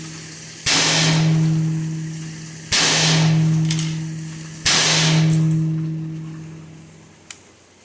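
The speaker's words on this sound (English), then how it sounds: "Now this is a loaded magazine, so I'm going to fire it several times." Rifle fitted with a Sons of Liberty Gun Works East India upper fired three times at a steady two-second interval, each shot a loud crack with a long droning echo fading away, plus a small click at the end.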